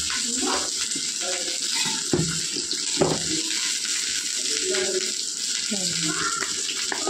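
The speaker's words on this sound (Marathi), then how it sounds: "त्यासाठी आता ही भेंडी आता टाकून घ्यायची आणि पहिले तर शिजताना याच्यात मीठ टाकायचं" Salted okra (bhindi) fries in a pan, giving a constant hissing sizzle while someone talks over it.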